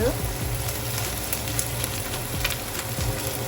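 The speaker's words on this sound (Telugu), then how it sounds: "సో అలాగా ఫ్రై అవనివ్వాలి ఒక 5 minutes." Chicken pieces and fresh coriander fry in a pan for a chicken avocado salad, giving a steady close-up sizzle and crackle with a few faint clinks, continuous throughout.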